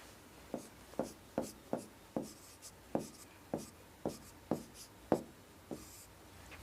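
Chalk or marker strokes on a board during a lesson: about a dozen short, scratchy taps and swipes in an uneven rhythm, close by and fairly clear, with no voices.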